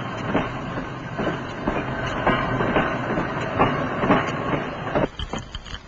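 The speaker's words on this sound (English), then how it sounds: "The first train leaves the station." A steam-era passenger train pulling out of a station in Tel Aviv, wheels clattering in a steady rhythmic clickety-clack with hiss, fairly close and continuous, easing off near the end.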